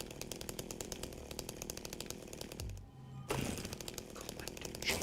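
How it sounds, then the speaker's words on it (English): Chainsaw in the survival horror video game Silent Hill 2, a continuous rattling engine buzz that cuts out briefly to a low hum and then roars back, close and steady. "Something sounds very chainsaw-y nearby."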